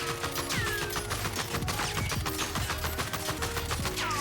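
An Oden assault rifle in a shooter video game is hip-fired in a sustained, rapid automatic burst. The shots crack loudly and densely, and brief whistling tones can be heard over them.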